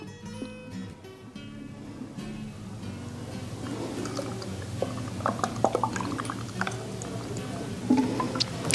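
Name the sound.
drink being poured into a glass with cranberries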